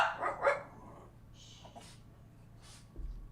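A dog gives two or three quick, sharp barks at the very start, then falls quiet over faint room background.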